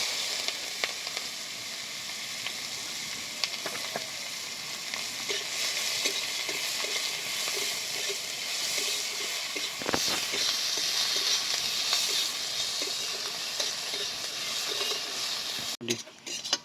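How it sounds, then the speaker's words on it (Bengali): Onions frying in oil in a wok make a dense, steady sizzle and hiss with occasional stirring scrapes, continuous and close throughout, ending with a brief clatter. "পেঁয়াজটা এখন আমি ভেজে নেব।"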